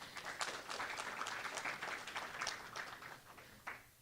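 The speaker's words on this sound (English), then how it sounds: "we'll give her a round of applause" Audience applause at a student awards ceremony, a room full of people clapping fairly quietly and evenly, thinning out toward the end.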